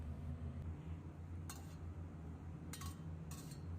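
Braised grass carp slices and pork liver being ladled onto a plate, heard as a few sharp, brief clinks of a utensil against dishware over a low, steady background hum.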